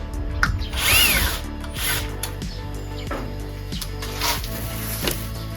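A power drill backs screws out of a vehicle panel near a window, a loud close whirring with repeated motor pitch changes as each screw spins free.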